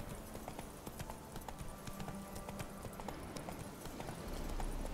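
Horse hooves gallop steadily through the whole stretch in The Witcher 3, a brisk rhythmic clip-clop set against game ambience and weather, close and fairly loud.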